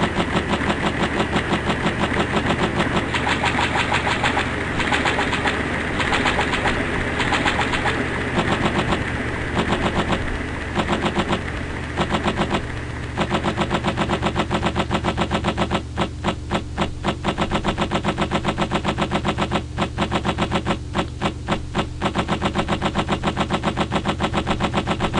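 In the video game LSD, a bridge gives off a sustained, droning electronic tone, dense and steady with a faint rhythmic flutter partway through, playing alone without music or voices.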